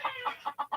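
A backyard chicken clucking in a quick run of five short, clear clucks, fairly close and alone with no talk.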